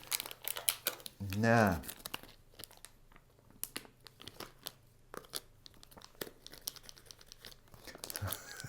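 The plastic wrapper on a Family Mart fish cake stick crinkles and tears in short, close bursts, with one louder rip early on, while a person speaks briefly between the crackles.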